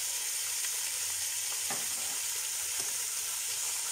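Veal pieces brown in a hot pan seasoned with Basque chili pepper, giving a steady, dense sizzle with faint stirring scrapes throughout.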